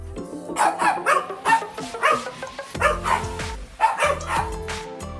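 Several small Maltese dogs bark and yip in quick, overlapping bursts, loud and close, with a brief pause midway before the yapping picks up again.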